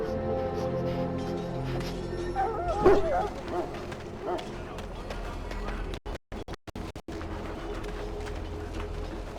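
Sick hounds in a Dragon Age Origins war camp bark and whimper in short yips amid ambient game noise, the barking loudest near the middle, followed by a few abrupt dropouts in the sound.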